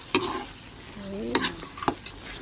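Bopis being stirred in a frying pan, a spoon scraping and clacking against the pan in a few sharp strokes over a steady sizzle, close by, with no talking.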